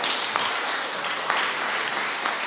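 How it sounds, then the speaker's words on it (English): Audience applause for graduating pupils at a junior school graduation ceremony, a dense, steady wash of many hands clapping at once, sustained and fairly loud throughout with no voices standing out. "Give them all a round of applause."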